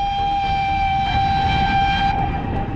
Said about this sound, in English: the steamer had caught up, blowing its whistle to taunt us as it took the pole position.